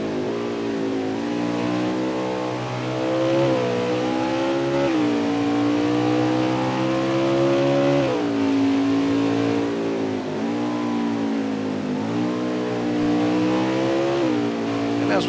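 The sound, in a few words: Xfinity race car engine revving at Mid-Ohio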